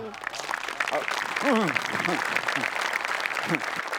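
A studio audience at a Marathi comedy show claps in a broad, continuous wash of applause, while voices talk over it.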